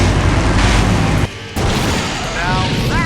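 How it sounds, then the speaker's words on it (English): Huge explosion in Full Throttle Remastered, a dense roaring blast that cuts out abruptly into a moment of silence, then gives way to rumbling debris and whistling tones. "Now that's an explosion, ladies and gentlemen."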